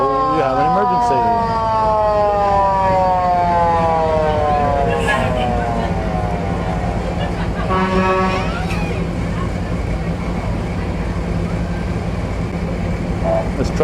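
Emergency vehicle sirens wail and sweep continuously at a Fourth of July parade in Alburg, loud and close throughout, with fire trucks, an ambulance and rescue vehicles passing, over steady traffic rumble and crowd noise.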